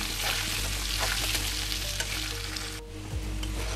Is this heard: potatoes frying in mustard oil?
yes